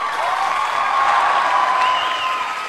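A crowd applauds steadily at a China versus Thailand men's 75 kg Muay Thai bout in Wenling, with the dense clapping sustained and fairly loud throughout a few seconds.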